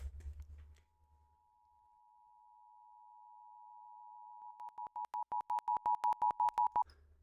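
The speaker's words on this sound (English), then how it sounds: "That's the alert sound." A steady synth tone made in LMMS holds for several seconds, then pulses rapidly on and off in a fast beeping pattern before cutting out.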